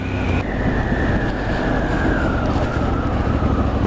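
A Triumph Scrambler 1200 XE motorcycle accelerates hard from a standstill toward 60, its loud, close engine note rising steadily through the gears under steady wind rush.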